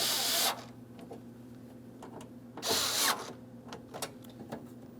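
A power driver snugs screws into plastic window regulator parts on a 2003-2008 Toyota Matrix, two short whirring bursts separated by quiet clicks and handling noises.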